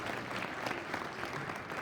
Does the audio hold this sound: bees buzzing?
no